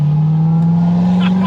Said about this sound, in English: Here's Eric driving his ZR1.